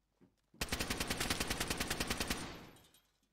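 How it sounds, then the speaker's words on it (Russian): A burst of automatic gunfire in the video game DayZ, about fifteen rapid evenly spaced shots at a distance, preceded by a single faint shot and fading out afterward. "Опа, слышу выстрелы."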